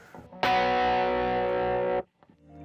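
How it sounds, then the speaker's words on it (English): An electric guitar with mid drive and a dotted eighth delay strikes a single sustained distorted chord that rings for about a second and a half and then cuts off abruptly. Faint echo tails trail after it, with no talking. "For this, I'm using like a mid drive. That drive sounds like this."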